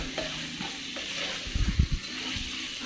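Chicken pieces sizzle in hot oil in a pan for a quick chicken dish, with a continuous frying hiss and a brief burst of scraping, clattering stirring near the middle.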